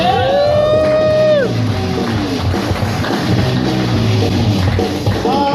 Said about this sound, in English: Would you start the clapping and the cheering, all of the applause